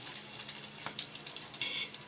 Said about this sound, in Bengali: অল্প আছে এটা ভেজে নেব।